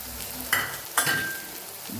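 Chopped onions sautéing in a pan for a Kathiyawadi green onion and sev curry, a soft steady sizzle broken by two short stirring scrapes, close and alone.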